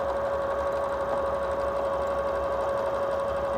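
A sewing machine runs steadily at speed while stitching a loose rickrack stitch on fabric for a quilted postcard, giving a constant even whir with a strong sustained hum and no pauses.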